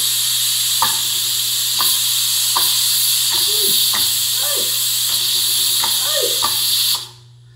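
Steady loud hiss of steam venting from a pressure cooker cooking beef ribs with cassava, with a few faint clinks and thin whistling chirps, stopping abruptly near the end.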